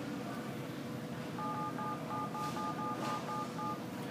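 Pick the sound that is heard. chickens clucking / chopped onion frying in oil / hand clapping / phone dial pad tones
phone dial pad tones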